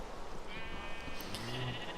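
Sheep bleating in the video game Minecraft, a couple of short wavering bleats rising over a steady background noise in the animal pens.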